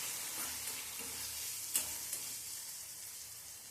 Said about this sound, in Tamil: சேர்த்து விட்டுட்டு வதக்கி விட்டுறலாம்.